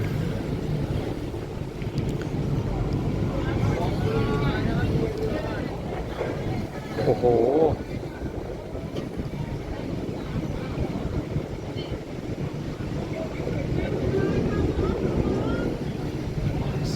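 Tourist boat cruising on the Chao Phraya River in Thailand, a steady low engine rumble with water wash and wind buffeting the microphone, continuous and close throughout.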